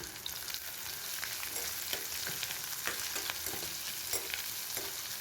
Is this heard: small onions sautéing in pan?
yes